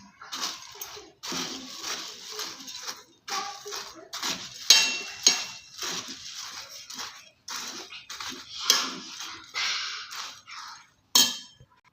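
A spoon scrapes and clinks against a metal bowl while churumuri chaat ingredients are tossed with oil, giving repeated rhythmic clattering strokes with short pauses and no talking.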